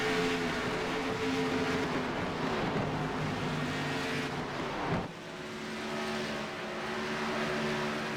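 Stock race cars roar around a paved oval at ISM Raceway in a Northwest Xfinity Series race, engines droning steadily with shifting pitch as cars pass close together, one car dogging another's rear bumper.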